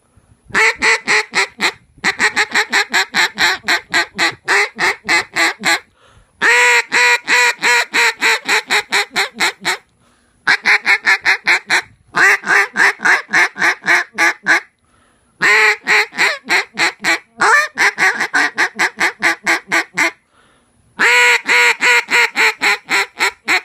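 Rapid series of loud teal duck call quacks, delivered in fast bursts separated by brief pauses, imitating a flock of teal, as used in a duck blind.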